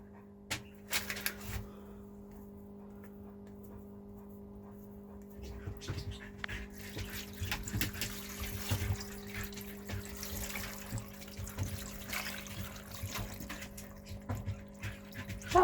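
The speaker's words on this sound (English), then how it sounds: "put that in, and then fill it with water" Tap water runs into a pan of carrots aboard a narrowboat, a quiet splashing fill that builds in the second half with clinks in the background.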